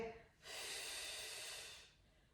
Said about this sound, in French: essaie de faire des belles grandes expirations qu'on est capable d'entendre